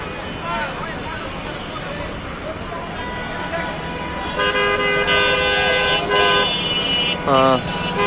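Horns toot repeatedly over the steady rumble of a road traffic jam in Savar, with buses, a police car and an ambulance stuck in place. Overlapping horn blasts come in short bursts, and voices murmur underneath.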